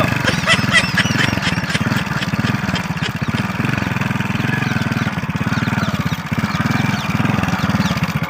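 A motorcycle engine runs close by with a steady, rapid low putter that keeps going without a break.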